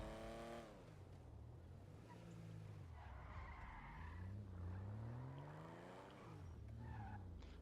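An Aston Martin DB5 (JB700) skidding in GTA Online, with a continuous engine drone under repeated long tire squeals that rise and fall over several seconds, loud and close throughout.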